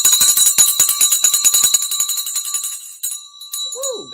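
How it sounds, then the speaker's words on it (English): The stock market closing bell rings on a trading floor as a loud, sustained metallic clanging with rapid repeated strikes, then stops and leaves a fading tone and a brief rising chirp. "10 seconds for the bell. So this bell is coming."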